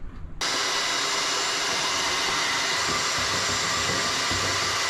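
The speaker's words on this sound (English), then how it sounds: "Let's get a vacuum going on this, shall we?" A shop vacuum switches on abruptly beside a wooden boat's fuel tanks, then runs with a loud, steady high-pitched whoosh and hum that holds constant.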